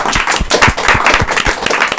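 Loud clapping from a group welcoming visiting students at an Indian Army coaching session, sharp irregular claps close by and sustained for the whole stretch.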